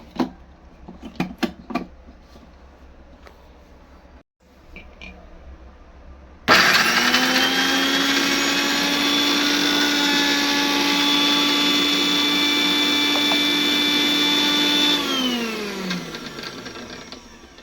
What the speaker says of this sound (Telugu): నేనైతే కోసేసుకొని మిక్సీకి అయితే పట్టేసుకుంటున్నాను మెత్తగా